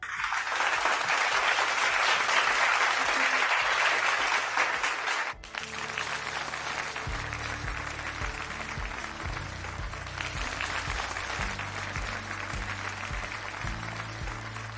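Studio audience applauding contestants on a radio antakshari show, a dense burst of clapping that drops off around the midpoint and continues more thinly, with music or voices faintly underneath.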